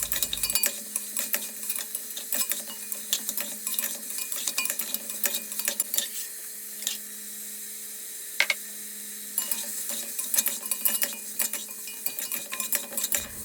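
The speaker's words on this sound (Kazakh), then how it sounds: "қызып тұрған қазанымызға майда құйып, етімізден бастап қуырамыз" Meat and onions fry in oil in a hot kazan for Uzbek mung bean soup, with a faint sizzle under repeated close metal scraping and clatter from a stirring utensil, with a brief lull midway.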